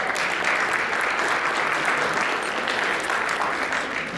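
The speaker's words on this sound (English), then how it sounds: "A round of applause for you." Gala audience applause at an evening awards event: a thick, even roar of many hands clapping, loud and steady for several seconds without any speech on top.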